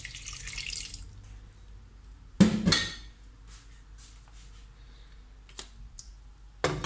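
A short splash of water is poured into a pot of mussels. One brief pouring burst sits among faint clicks and small drips in an otherwise quiet kitchen.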